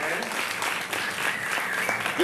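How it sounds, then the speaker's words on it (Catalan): Audience applause at an outdoor festival storytelling show with a giant figure during the Sant Magí festivities, moderate and steady clapping with voices mixed in. "Feu-vos un aplaudiment, que això ho heu fet."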